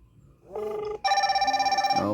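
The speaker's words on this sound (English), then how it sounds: "Okay, so we are receiving a call from John." A Y22 smartwatch sounds its incoming-call ringtone: a short rising tone, then a loud sustained electronic warble that pulses rapidly for about a second before cutting off, close and clear.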